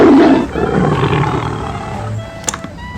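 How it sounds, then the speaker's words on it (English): A toy lion gives a loud electronic roar that opens strong and trails off over a few seconds, followed by a couple of faint clicks, with no talk. "Lion."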